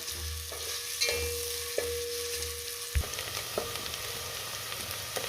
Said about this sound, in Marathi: त्यातच आपल्याला बारीक चिरलेला कांदा घालायचा आहे आणि कांदा आपल्याला दोन मिनटं परतून घ्यायचा आहे